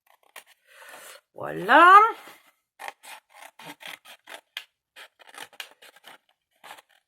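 Small scissors snip through card while a shaker-lid craft is being made, a run of short, crisp cuts in an irregular rhythm, close by, after a brief spoken word.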